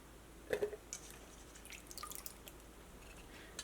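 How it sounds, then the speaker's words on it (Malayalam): Mushrooms being rinsed briefly by hand in a bowl of water give faint, close drips and small splashes, a few soft sloshes scattered over a few quiet seconds. "ഇങ്ങനെ എടുത്തിട്ട് വെള്ളത്തിലിട്ടിട്ട് ഇങ്ങനെ കഴുകി പെട്ടെന്ന് തന്നെ എടുക്കുക"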